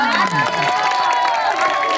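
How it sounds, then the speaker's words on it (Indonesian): Children at an Islamic school Ramadan boarding program's closing event cheer and clap together in a dense, steady crowd roar, with excited young voices mixed through the noise. "Betul, tepuk tangan."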